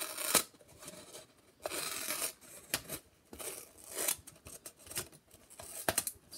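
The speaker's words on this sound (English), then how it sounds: "cut off the excess on the top, so you don't have this giant cone around your bank" Scissors snip through a paper cone to trim its excess top on a homemade money bank, a series of crisp, separate cuts and rustles at close range with no talking.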